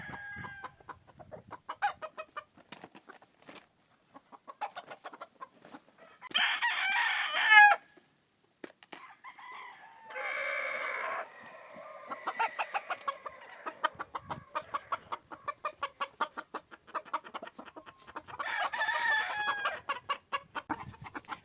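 White chickens cluck in short repeated bursts while roosters crow loudly several times, nearby and close in, with no talking.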